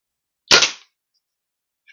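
A Kral Arms .22 air rifle fires a single pellet shot, a sharp, loud crack with a quick decay, standing alone in otherwise quiet surroundings, followed near the end by the onset of another sound.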